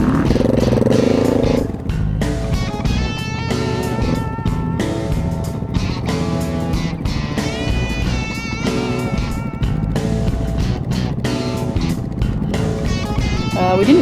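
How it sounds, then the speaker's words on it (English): Enduro motorcycles start off on an adventure ride, engines revving up and down in rising and falling tones, loud and close for the whole stretch. "Before we headed off on the bikes around 8:30."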